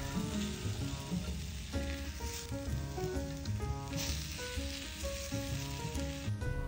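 Fish sizzles loudly and steadily in a hot pan as acqua pazza cooks on a balcony camp setup. The frying stays close and continuous throughout, with music playing underneath and no voices.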